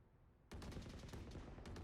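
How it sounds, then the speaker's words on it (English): Rapid gunfire in Valorant on the Split map, a dense burst of shots starting abruptly and continuing as a steady, loud barrage with no talk over it. "You hear all of this gunfire."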